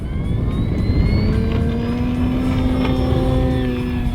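An E-Flite Carbon-Z Cessna 150T 2.1 m RC airplane on a 6S battery takes off at half flaps in cold weather, its electric motor and propeller giving a loud, steady whine with the pitch sliding upward as it speeds up and climbs.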